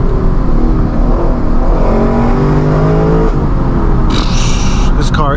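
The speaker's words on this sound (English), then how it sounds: "Listen right here, listen to this downshift." Lexus LC 500 V8 downshifts with a loud, near engine blip as revs sweep up and then fall, followed by a sharp burst of high mechanical whine near the end.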